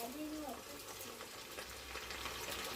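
Steady crackling sizzle of karaage chicken pieces frying in hot oil in a frying pan, a continuous busy hiss with faint scattered pops, fairly quiet and close.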